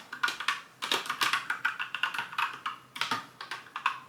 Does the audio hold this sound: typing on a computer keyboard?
yes